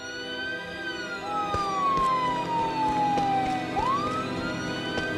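Police siren in the Friday the 13th video game, a wailing tone sweeping slowly down then rising again, fairly loud over a low engine-like background, without talk.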